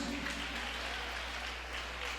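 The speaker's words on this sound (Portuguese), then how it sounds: "Alguém quer aplaudir a Jesus?" A church congregation applauding during a Bible study, a steady wash of clapping from many hands, fairly distant and even throughout.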